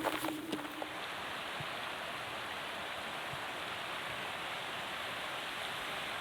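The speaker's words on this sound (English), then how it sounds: "Conahutu Creek." Conahutu Creek in Rocky Mountain National Park rushes past with a steady, even broadband wash of flowing water, a few faint knocks at the start, then unbroken.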